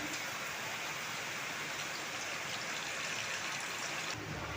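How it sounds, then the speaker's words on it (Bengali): Curry gravy for parwal kofta boils steadily in a pot, a soft, even bubbling patter with no breaks, faint and close. "আমার ঝোল ভালোভাবে ফুটে গেছে"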